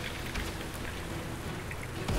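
Steady hiss of rain from a spell cast in the Magicka video game, a dense, even wash of falling drops throughout with a low rumble at the very end.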